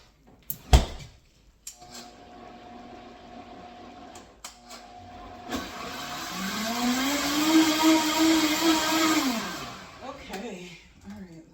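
A blender whirs through a strawberry smoothie, its motor starting around the midpoint and holding a loud, steady grinding roar that rises slightly in pitch before winding down, preceded by a few clunks and rattles of the jar.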